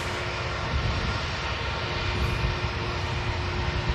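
Turkish Airlines Airbus A321 jet engines running, a fairly faint, steady broadband rumble with a thin constant tone, distant and unchanging.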